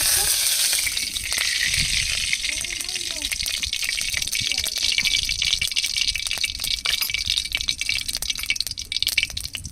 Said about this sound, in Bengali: প্রথমে ডিমগুলো ভেজে নেব কড়াইতে সরিষার তেল দিয়ে